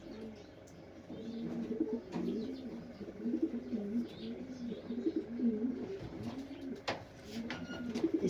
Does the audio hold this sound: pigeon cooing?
yes